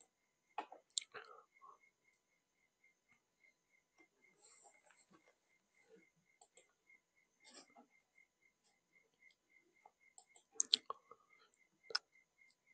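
Faint computer mouse clicks in a quiet room, sparse and irregular single and double taps spread over several seconds, with a soft background tone and no voice.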